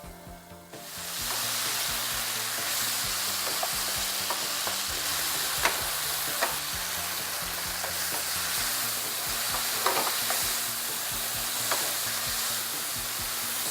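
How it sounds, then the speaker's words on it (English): Lamb chops sizzle steadily in a lidded pan, a constant close hiss of frying fat with occasional soft pops and crackles, without talk. "Lamb chops take about 6 to 8 minutes to cook well. I have placed a lid on the pan."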